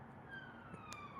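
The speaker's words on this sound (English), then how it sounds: "apologies for the sirens." A police siren passing in central London, a faint sustained wail gliding slowly in pitch, distant and low in level, with no talk over it.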